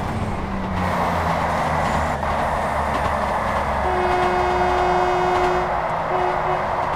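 A diesel train runs along an express line through rice fields in the video game Train Sim World 4. Its engine and wheels make a steady, continuous rumble, and sustained horn-like tones sound partway through. No one speaks.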